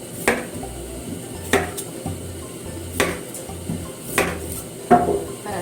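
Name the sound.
knife cutting the ends off taro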